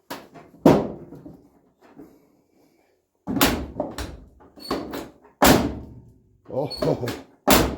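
Door of a Chevy square body truck, after a striker repair, shut in a shop: several solid thunks and slams, close and loud, spaced apart, with someone talking and handling noises in between.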